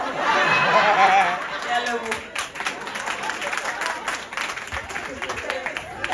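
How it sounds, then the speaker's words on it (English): A crowd at a traditional Pedi wedding in Limpopo applauds with a burst of clapping that tapers off, mixed with chatter and light laughter as people speak over it. "A round of applause."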